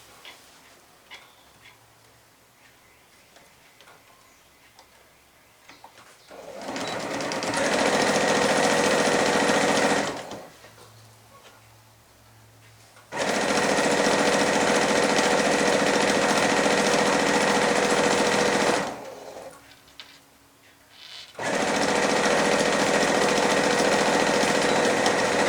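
A sewing machine stitches the side seam of a shopper bag in three loud, steady bursts of rapid running, separated by brief quiet pauses.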